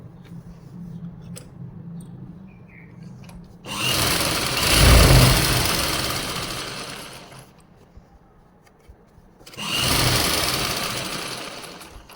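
A sewing machine stitches a salwar in two bursts, each a loud, steady whir of several seconds, separated by a quieter pause with faint handling of fabric.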